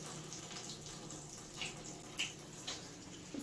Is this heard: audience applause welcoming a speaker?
no